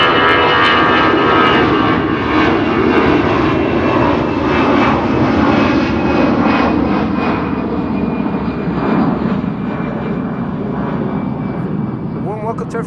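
An Emirates A380 jet airliner in special livery passes at Amsterdam Schiphol's northern threshold, its engines a loud, sustained roar with a low rumble and a faint whine that slowly fades, while someone talks over it.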